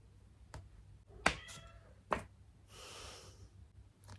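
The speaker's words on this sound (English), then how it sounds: "there's a cat meowing" A faint cat meow amid quiet clicks and soft thumps, followed by a breathy rustle, all distant and low in level.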